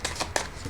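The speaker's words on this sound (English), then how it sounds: "let me do one more shuffle and rifle." Tarot cards are riffle shuffled in a quick, close burst of fluttering snaps lasting under a second, with no talking.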